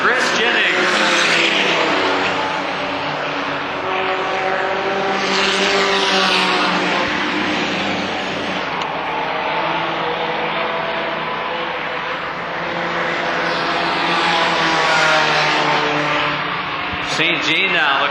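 Stock race cars scream around an oval in a steady loud drone, engine notes swelling and fading as the pack passes, with a race commentator calling the action throughout.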